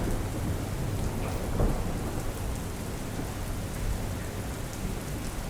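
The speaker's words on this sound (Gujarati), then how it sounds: "પંચમહાલ જિલ્લામાં ભારે વરસાદ છે" Heavy monsoon rain pours at the Pavagadh hill pilgrimage site in Panchmahal district, a constant loud roar of downpour hitting surfaces with a faint rumble underneath, and no voices.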